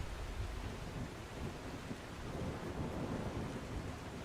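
Dense, constant wash of rain and rumbling thunder from a storm in the survival game The Last Caretaker, a steady broadband roar with no pauses and no voices.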